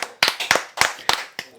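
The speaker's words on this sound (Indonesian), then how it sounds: "Tepuk tangan dulu untuk Andri" A few people in a studio talk show clap in short, uneven bursts, with about six distinct claps spaced apart by brief pauses.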